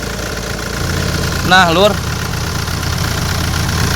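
A Hyundai Santa Fe 2.2 CRDI diesel engine from 2016 idles steadily up close with a knocking rumble, while someone speaks briefly over it.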